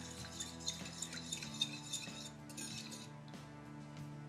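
A utensil clinks against a bowl while salt and sugar are mixed, giving a quick series of light, close taps and scrapes that ease off partway through, with no talking.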